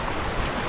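Sea waves surge and wash at Ramakrishna beach where a speed boat is being brought in, a steady broadband roar of surf and wind filling the whole moment without voices.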